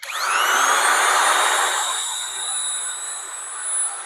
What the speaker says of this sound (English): Now let's go ahead and fire this grinder up.